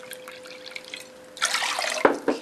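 Fresh-squeezed orange juice and balsamic vinegar poured into a mason jar: soft liquid splashing and trickling that starts partway in, with a couple of sharper drip or clink accents near the end, close and fairly quiet.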